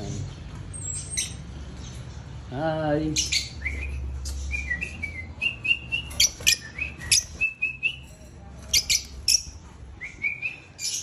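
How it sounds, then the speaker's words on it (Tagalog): Pet birds chirp and squawk close by in short sharp bursts, with a brief greeting spoken and low background rumble. "Meron pa akong ibon dito."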